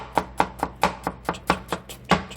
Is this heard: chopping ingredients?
yes